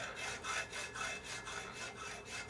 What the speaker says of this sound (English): start off with a good sharp hacksaw and cut that groove